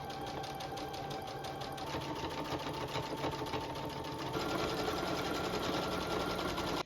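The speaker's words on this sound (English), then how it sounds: "now we just need a straight stitch" A sewing machine runs a straight stitch in a rapid, even mechanical patter, close and steady for several seconds with no talking, then cuts off abruptly.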